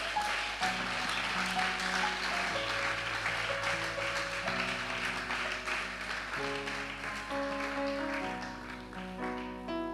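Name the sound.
congregation applauding for the Lord in church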